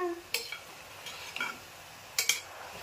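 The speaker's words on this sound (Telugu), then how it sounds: "ఇందులో తగినంత ఉప్పు, కారం, ధనియాల పొడి, జీలకర్ర పౌడర్, పసుపు ఇవన్నీ వేసి బాగా కలుపుకోవాలి" Spices being stirred into cooking goat head meat in a pan, heard as a few soft scraping stirs and clinks of a spoon against the pot over a faint sizzle, with no talk.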